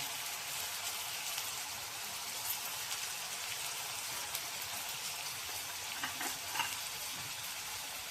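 A dense, even sizzle of spices, curry leaves and turmeric tempering in hot oil, constant and close, with a few soft clinks near the end.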